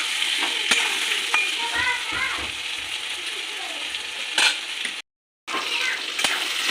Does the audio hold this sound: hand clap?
no